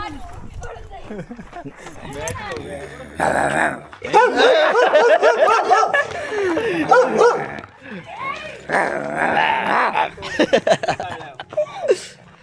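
A dog yips and barks in short bursts amid lively conversation from several nearby people, with some whimpering between barks.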